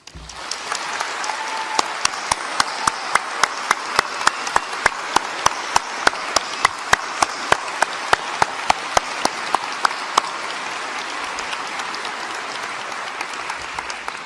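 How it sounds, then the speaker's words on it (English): A large audience at a UCL graduation ceremony gives the graduates sustained applause, a dense, even wash of clapping with a few distinct nearby claps rhythmically standing out, fading slightly at the end. "let's start with a round of applause for our graduates"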